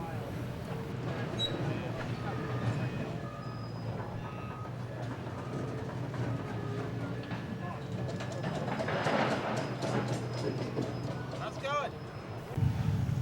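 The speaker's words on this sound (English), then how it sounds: "Shortly after, they make their shove back to the rest of their train." Along Old Highway 52 and Echo Avenue in Clayton County, a freight train shoves empty gondola cars, producing a distant, continuous rumble with metallic squeals and clanks. A voice speaks over the rolling noise.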